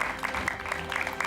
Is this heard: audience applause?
yes